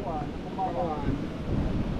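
Ocean waves wash in at a shoreline, a broad low rumble with wind buffeting the microphone, while people talk faintly nearby.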